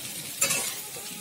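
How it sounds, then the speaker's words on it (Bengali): Boiled young jackfruit frying in hot oil, a brief steady sizzle with a single scraping stir swelling midway, heard close with no talking. "এঁচোড়টা আমি তেলের মধ্যে যে ভেজে নিচ্ছি"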